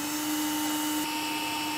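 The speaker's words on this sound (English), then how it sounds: "We're going to drill a pilot hole through the center of it" A steady, continuous high-pitched whine of a power drill boring a pilot hole through the metal truck bed of a 2019 Chevrolet, running at constant speed, loud and close, with no pauses.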